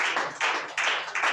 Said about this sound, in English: Please put your hands together for her.